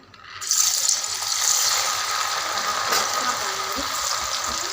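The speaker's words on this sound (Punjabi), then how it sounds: "ਹੁਣ ਆਪਣਾ ਤੇਲ ਗਰਮ ਹੋ ਗਿਆ ਇੱਕ ਦਾਲ ਨੂੰ ਇਹਦੇ ਵਿੱਚ ਪਾਵਾਂਗੇ ਤੇਲ ਦੇ ਵਿੱਚ" Moong dal is dropped into hot oil for a crispy salted snack and bursts into a loud, close sizzle that swells within the first second and keeps crackling steadily.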